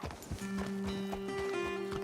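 Horse hooves clip-clop in a steady rhythm of close, distinct thuds on hard ground, with a sustained tonal hum running underneath and no speech.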